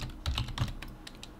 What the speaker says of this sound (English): I'm just going to press Control and C on the keyboard to copy those.